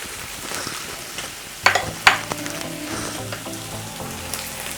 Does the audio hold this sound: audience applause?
no